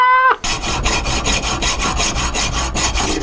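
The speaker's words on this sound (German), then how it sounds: "dann tun wir uns hier mit dieser Säge das Ganze schnell zuschneiden" A hand saw rasps through a metal threaded rod in a steady back-and-forth rhythm, close and loud, each stroke evenly spaced, after a brief tonal squeal at the start.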